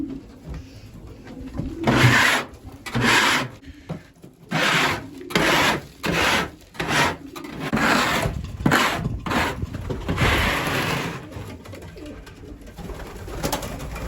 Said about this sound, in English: Let's scrape that perch up, get it cleaned up